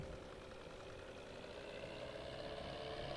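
A tractor engine in Farming Simulator 22 idles steadily and continuously, a mid-pitched drone that holds at an even level with no talk over it.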